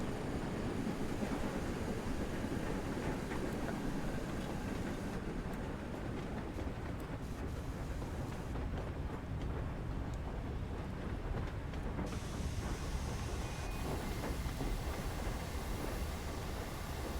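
A train approaching Crewe in Train Sim World 6 runs on with a continuous low rumble and rolling rail noise, steady and unbroken for the whole stretch, with no talking.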